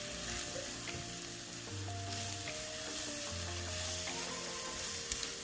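Rice with seasonings and sugar being stirred in a pot over a steady low sizzle, with soft scraping and a faint tonal backing running throughout, no talking.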